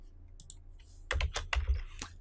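Keys clatter on a computer keyboard as a short name is typed, a quick burst of close, crisp clicks with a few lighter taps before it.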